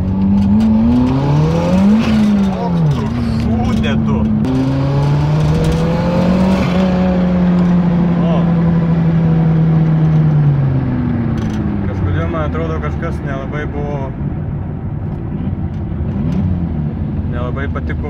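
Renault Clio engine with a suspected engine or turbo fault, revving up and down repeatedly in long rising and falling sweeps, loud and close, with speech over parts of it.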